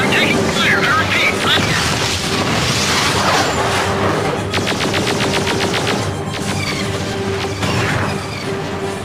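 Rapid machine-gun fire and impacts pounding a spacecraft in the StarLancer space combat game, a loud continuous barrage with a fast rattling burst midway, under radio-style voices.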